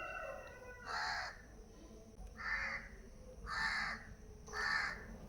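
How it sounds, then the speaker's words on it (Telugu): At dawn in a village, crows give four loud, separate caws spaced a second or so apart, ringing out over a quiet morning background. "ఇలా పక్షుల సౌండ్ తెల్లవారుజామున ఎంత హాయిగా ఉంటుంది"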